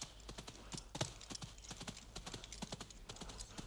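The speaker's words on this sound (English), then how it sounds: "Look, a horse." Rhythmic clip-clop of horse hooves on hard ground, several quick steady beats, fairly faint and close with light background hum.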